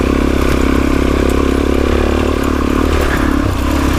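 Motorcycle engine running loud and close throughout, a dense continuous drone with clattering mechanical texture while riding on a forest road.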